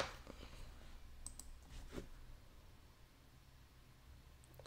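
Computer mouse clicks on an investment app order screen, a few sharp close clicks in the first two seconds over faint room hiss, then near silence.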